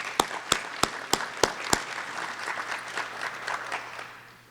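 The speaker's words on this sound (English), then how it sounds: "So applause to the commission for that." Applause for a city commission at a Gainesville State of the City address, opening with several sharp, evenly spaced claps before blending into softer scattered clapping that tapers off.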